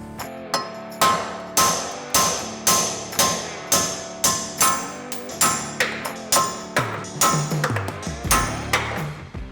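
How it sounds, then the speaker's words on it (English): Sledgehammer pounding stock wheel studs out of a Subaru WRX hub: around twenty sharp, ringing metallic blows in a steady rhythm, close and loud. "We're just going to take a sledgehammer, pound these stock studs out"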